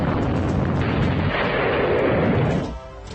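A loud, sustained roar of demolition explosive blasts bringing down a twin-tower high-rise building, rumbling for nearly three seconds, then dropping off into a lower lingering rumble.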